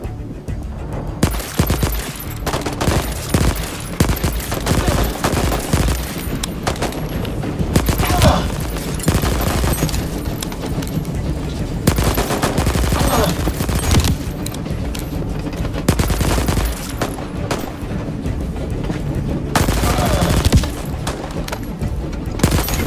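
Dense gunfire in the Voidtrain game: rapid machine-gun bursts and booming shots rattle almost nonstop, loud and close, with a voice speaking over parts of it.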